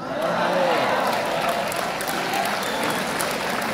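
Audience at an Urdu poetry mushaira gives a sustained burst of applause, dense clapping that stays loud and steady from start to finish with no voices standing out.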